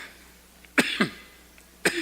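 Three sharp coughs from a preacher during a sermon, close and fairly loud, two in quick succession and one more after a short pause.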